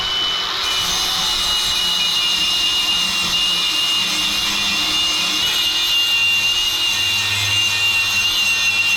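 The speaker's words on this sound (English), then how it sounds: "First thing I'm gonna do is just grind all that crap off of there" A power grinder strips paint from exhaust V-band clamps for long-tube headers on a 1992 Chevy C1500, giving a continuous loud, close, harsh abrasive whine that holds steady throughout.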